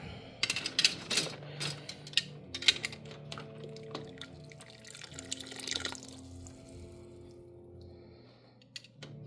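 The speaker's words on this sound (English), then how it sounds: "Make sure you dump the jars out." Hot water drains and splashes out of canning jars being dumped after strawberry jam making, with splashing, dripping and glassy clinks in the first half, then fading to quieter trickles and ringing tones.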